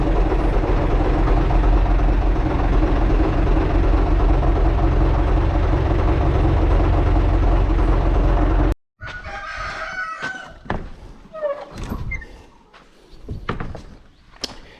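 A Zetor tractor engine idles on a farm during the wheat harvest, a loud, steady, close drone for about nine seconds that cuts off abruptly, followed by quieter, sparse farmyard sounds.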